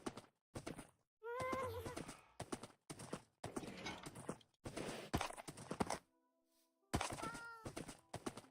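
A horse in a video game whinnies twice, mixed with clip-clopping hooves and thudding footsteps in short, choppy bursts that fill most of the clip.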